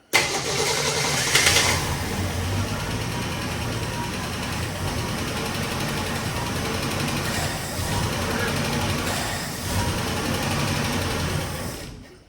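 A 1968 Ford Mustang garage-find survivor cranking continuously without catching, a loud, steady, rhythmic starter churn lasting about twelve seconds, close by.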